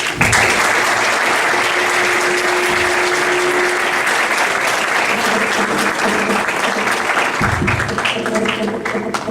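An audience at a university talk claps warmly, a dense sustained burst of applause that fills the room for several seconds, with a voice briefly audible beneath it.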